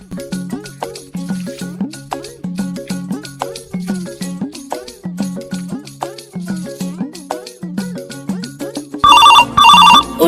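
A phone rings loudly and close, sounding a repeating melodic ringtone in steady cycles, and a harsher buzzing burst comes near the end.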